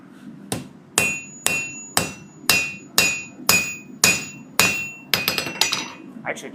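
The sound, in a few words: hammer banging on steel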